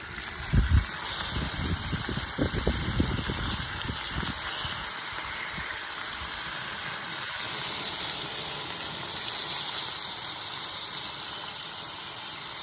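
Bacon sizzles in a pan on a camp stove at a dispersed tent campsite, a steady frying hiss broken by a few louder crackles and pops early on, close up and with no voices.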